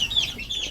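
Month-old chicks of raptor sweater and gilmore hatch gamefowl in a breeding pen give a couple of short, high chirping peeps close by.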